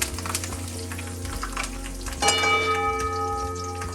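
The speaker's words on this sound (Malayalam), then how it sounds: "കറിവേപ്പില ഇട്ടിട്ട് നൈസായിട്ട് ഇങ്ങനെ വഴറ്റി ഇങ്ങനെ എടുക്കുന്നുണ്ട്" Ginger, garlic and curry leaves sautéing in a pan for a Kerala-style snail meat roast, a steady close sizzle with faint scraping stirs, while a ringing bell-like tone enters partway through.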